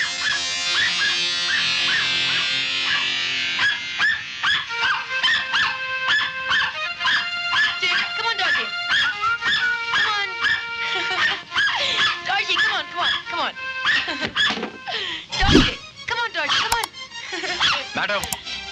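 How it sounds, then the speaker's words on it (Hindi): A dog yips, whimpers and barks repeatedly, close by, mixed in with people talking over it. "आपका ये कुत्ता लगातार भौंक रहा है।"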